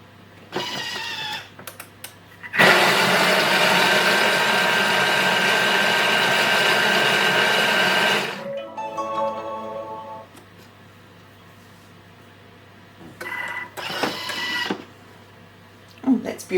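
A kitchen blender whizzes a sweet potato casserole mixture with cinnamon in one loud, steady burst of about six seconds, with someone talking before and after it.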